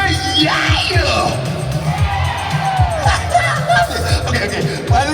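Crowd at a Universal Studios Singapore street show yelling "yeah" together, a loud, sustained mass of voices with rising whoops and shouts over a thumping beat.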